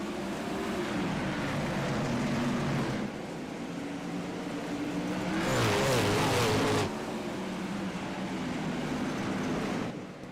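A field of dirt sprint cars races at Cedar Lake after the green flag, engines droning and revving steadily, with one car swelling louder as it passes close by midway.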